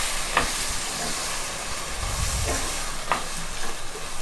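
Chopped tomatoes sauté in a pan for tomato thokku, giving a steady close-up sizzle marked by a few brief spatula scrapes and a soft low rumble of stirring midway.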